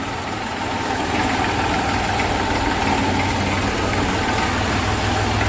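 A 1991 Massey Ferguson 35 tractor in good condition, with new tyres, idles steadily close by as a continuous low engine rumble with no talk.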